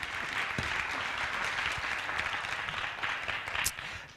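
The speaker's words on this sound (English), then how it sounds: "Another applause" Steady audience applause at an annual environmental development meeting, a dense wash of clapping that holds at even strength for about four seconds with no voices over it.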